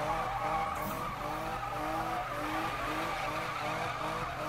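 A BMW E46 GTR doing donuts in Need for Speed 2015 makes a steady, unbroken tire squeal over a droning engine, loud and close throughout.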